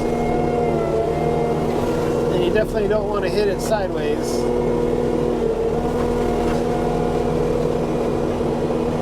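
Kubota SVL75-3 compact track loader clearing land and widening trails, its diesel engine running as a loud, steady drone with a constant hum throughout, while someone talks over it.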